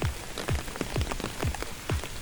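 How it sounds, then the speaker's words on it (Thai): Steady rain falling outdoors at a rocky mountain viewpoint, a dense close patter with regular heavier drips landing nearby, with no voices. "ฝนตกนะครับ กำลังจะถึงจุดชมวิวแล้วนะครับ แต่ว่าฝนตกซะก่อน ก็เลยต้องหลบฝนก่อนนะครับ"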